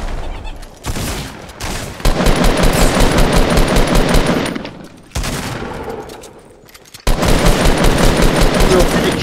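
Sustained bursts of rapid automatic gunfire in Fortnite, loud and close, broken by a couple of short pauses, with faint voices underneath.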